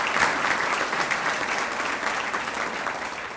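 An audience claps loudly and steadily, a dense continuous wash of hands that fades slightly toward the end, with no voices over it.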